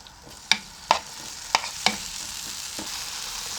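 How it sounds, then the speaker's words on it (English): Tomatoes fry in hot cooking oil for spaghetti, a constant soft sizzle with four distinct utensil knocks against the pan early on, then quieter frying alone. "I'm going to fry my ingredients. Start with the cooking oil. And now put in our tomatoes."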